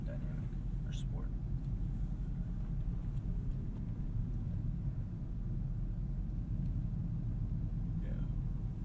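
A 2018 Audi RS3 driving, with a low, steady engine rumble and road noise that stays even and moderately quiet, with faint voices now and then.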